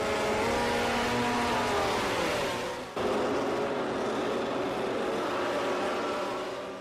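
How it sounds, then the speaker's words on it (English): Racing motorcycle engine held at steady mid revs on the grid before a race start, a loud continuous drone with a brief dip midway, then resuming at the same pitch. "Bringing the revs up to about midway for the start, some racers blip the throttle."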